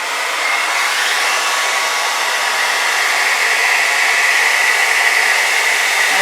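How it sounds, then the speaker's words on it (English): A blow dryer roars continuously at close range over a fluid acrylic paint pour, a loud, even whoosh of rushing air that holds steady without pause. "I might want to blow that around some, just because I have a blow dryer handy."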